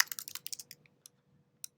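Close, quiet typing on a computer keyboard, with a quick burst of rapid clicking keystrokes, then a pause and a few isolated key taps.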